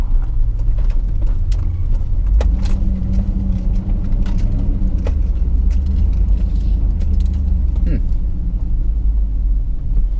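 A Chevy HHR on the road, heard from inside the cabin as a steady, loud low rumble of engine and road noise that runs throughout, with occasional faint higher clicks above the drone.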